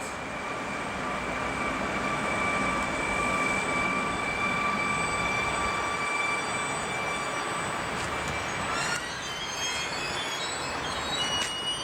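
A Flirt electric multiple unit pulls into Warszawa Młynów station with a loud, steady motor whine and rolling rumble, then sharp wheel squeals as it brakes toward the end.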